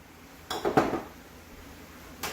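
A utensil scrapes and clinks against a pan while flour is mixed into onions cooked in ghee, a few short knocks and scrapes close by, then a quiet pause and one more brief scrape.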